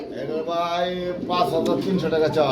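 Fancy pigeons, including an almond homozygous pair, cooing at a seller's loft; soft, close, throaty coos run throughout while people talk over them.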